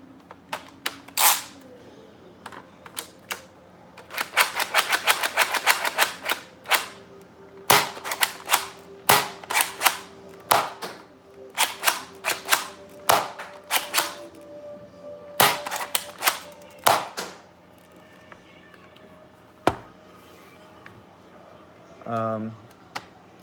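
Sharp, snappy shots from a spring-upgraded Nerf dart blaster, fired in quick irregular bursts with priming clicks between them, close and loud, with someone talking at times.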